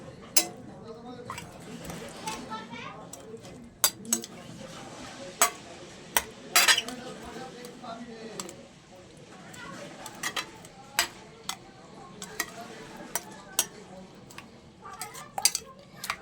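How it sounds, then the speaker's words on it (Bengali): A spoon mashing hot fried tomato for tomato bharta, with soft squelching and sharp metallic clinks against the dish at irregular intervals, close by and fairly quiet. "যেহেতু এটা গরম আছে তাই আমি একটা চামচের সাহায্যে এটা মেখে নেব।"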